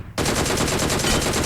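Rapid automatic gunfire from a fight in the PUBG Mobile video game starts abruptly after a short quiet moment and continues as a dense, unbroken burst of shots at full loudness.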